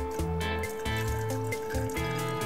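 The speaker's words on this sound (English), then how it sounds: "all I'm going to do is pour the red wine" Red wine poured from a bottle over ice in a glass, a steady liquid pour running almost continuously for a few seconds, close and fairly loud, with background music and no talking.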